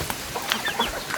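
Chickens cluck near a rice field with penned ducks nearby, several short, close clucks and squawks in quick succession, no voices.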